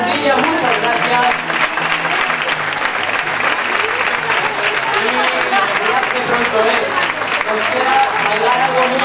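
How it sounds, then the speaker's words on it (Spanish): Sustained, loud applause from a crowd at a school staff festival, dense clapping continuing throughout with voices mixed in underneath. "De nuevo, un aplauso a toda la plantilla, muchas gracias."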